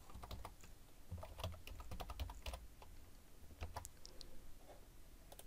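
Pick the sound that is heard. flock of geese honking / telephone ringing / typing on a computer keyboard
typing on a computer keyboard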